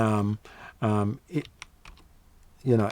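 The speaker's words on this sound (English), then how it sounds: "within my browser I can type in" A few quick, soft keystrokes on a computer keyboard fall between short bursts of someone talking nearby.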